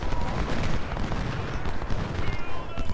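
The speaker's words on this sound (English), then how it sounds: "I'm going to send our Napoleons forward to deliver more devastating fire on them." Napoleon cannons fire artillery in the Civil War strategy game Ultimate General: Civil War, a loud, dense run of overlapping booms and battle noise that continues with no letup.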